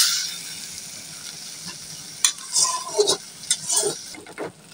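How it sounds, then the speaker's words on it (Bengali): Boiled potatoes being stirred and fried with spices in a pot: soft sizzling throughout, broken by several scraping, clattering strokes of a spoon against the metal in the second half, close and moderately loud. "আলু দেওয়ার পর আলুটা মশলার সাথে কষিয়ে নিলাম।"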